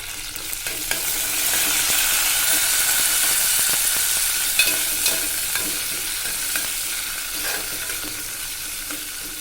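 Crushed garlic and curry leaves fry in hot oil in a pan, a loud, steady sizzle with scattered small pops and light scraping stirs throughout, heard close and without talk.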